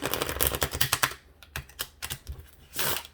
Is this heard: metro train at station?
no